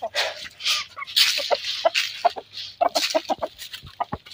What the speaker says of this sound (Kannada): ಸೊ ನೋಡ್ಬೋದು ಕೋಳಿಗಳು